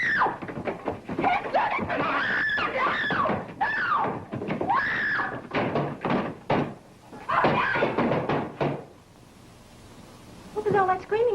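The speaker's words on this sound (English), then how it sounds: "What was all that screaming I heard?" A woman screams repeatedly during a fight, loud and frantic bursts amid thuds and scuffling, with a pause before a final short cry.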